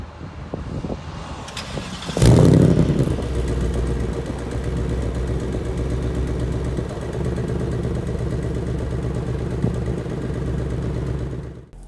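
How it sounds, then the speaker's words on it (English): A 2018 Ford Mustang GT with active dual-mode exhaust fires up with a loud starting burst, then settles into a steady, throaty idle rumble nearby with no talking over it. "this car will come with an active exhaust with a dual exhaust mode"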